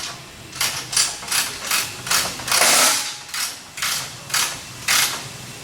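Half-inch bolts on a rooftop landscape solar collector mounting system are tightened with a ratchet, giving about nine evenly spaced clicking bursts roughly every half second, close and moderately loud with no talk.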